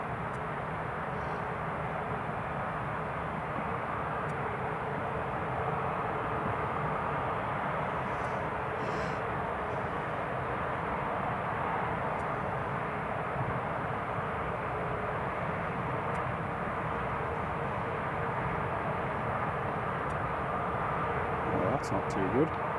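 An airliner from Krakow climbs out from runway 07 at Newcastle International Airport, a steady, broad jet roar that holds evenly throughout at moderate distance with no break.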